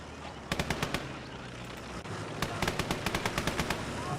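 Gunfire in a video game: short bursts of rapid shots over a steady rumbling background, a quick string early, a pause, then a longer rattling volley, with no talk over them.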